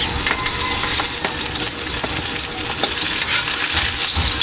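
Garlic and onion frying golden brown in a pan for Ilocano pinakbet, a steady close crackling sizzle with occasional stirring scrapes, no talking.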